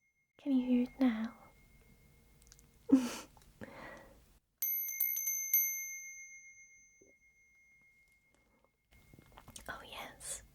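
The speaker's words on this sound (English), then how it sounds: "I have my very own little bell here" A small jingle bell is shaken close up in a quiet, festive ASMR setting, giving a short burst of bright ringing with tones that linger and fade, set between soft whispering.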